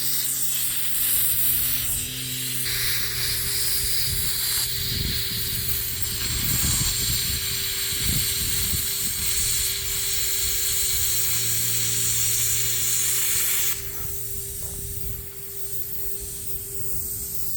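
A cutting torch slices metal on a log splitter build with a worn tip, giving a steady, loud roaring hiss close by that runs throughout, with a slight drop in level near the end and no talking.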